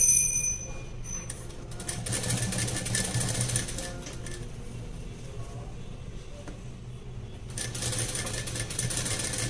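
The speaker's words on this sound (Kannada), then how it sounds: "ಈಗ ಸ್ಟಿಚ್ ಅನ್ನ ಎಡ್ಜಿಗೆ ಸ್ಟಿಚ್ ಅನ್ನ ಹಾಕ್ಬಿಡಿ." A sewing machine runs steadily while stitching a lace edge onto a blouse, its motor whirring close and continuous with brief stops and restarts.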